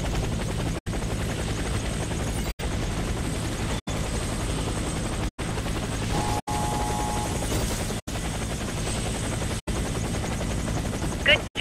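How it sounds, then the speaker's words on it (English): Helicopter in the Warface video game campaign, a loud steady rotor thrum with engine whine running throughout, cut by brief silent gaps, with faint mechanical clanks near the end. "Helicopter for extraction."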